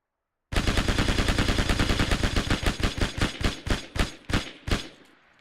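A machine gun in the Hell Let Loose video game fires one long, loud, close burst whose rate of fire slows steadily as the barrel overheats, the shots spreading apart until they stop, with no talking.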